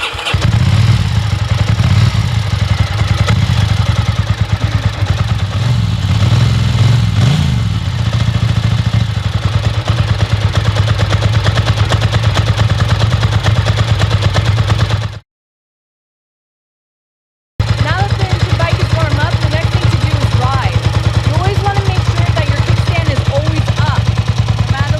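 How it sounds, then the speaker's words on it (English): A motorcycle engine warming up in neutral after starting, a steady low idle rumble running loud and close throughout, with a brief silent gap partway through. "So now we're going to warm up the motorcycle."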